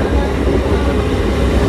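A passenger train rumbles at Amghata halt railway station on the Krishnanagar–Amghata line, a steady low, dense roar of rolling wagons filling the whole moment without a break.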